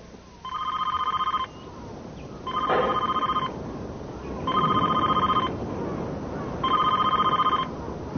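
An old telephone bell rings in four evenly spaced bursts with pauses between, fairly clear and mid-distance over a quiet room.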